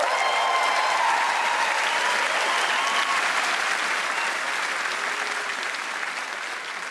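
Sustained applause from a large awards-ceremony audience at the BAFTA Film Awards, dense and continuous clapping that holds steady and eases off slightly toward the end.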